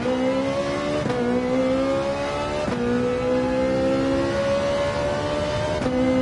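Ferrari flat-plane crank V8 race car engine in Gran Turismo 7, a Gr.3 racer revving hard and climbing steadily through the gears, with three sharp upshifts that each drop the pitch before it rises again, loud and continuous.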